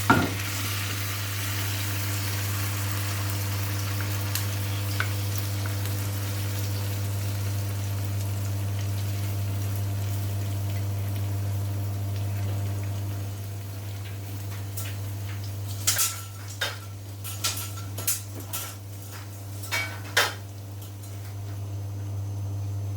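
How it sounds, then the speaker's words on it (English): Beaten egg cooks in a pan on high heat for a low-carb tortilla: a continuous close sizzle over a low steady hum, with scattered sharp crackles and ticks near the end. "I've just added some more beaten egg to the top of this because it didn't look as if there was enough eggs to make it set."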